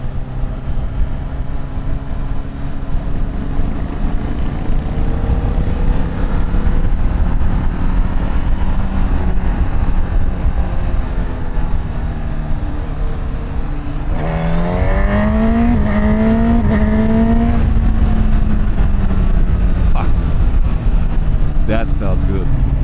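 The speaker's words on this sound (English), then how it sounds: "Finally was able to push that throttle handle full." A Honda CB1000 Hornet 1000cc naked motorcycle engine drones steadily in second gear, then opens to full throttle, its loud rising rev climbing and holding close and continuous under wind noise.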